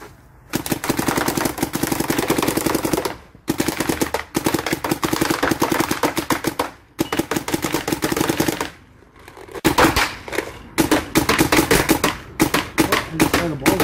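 An SP Shocker AMP paintball marker fires in rapid bursts, fast strings of sharp pops broken by brief pauses, loud and close, with a short voice near the end.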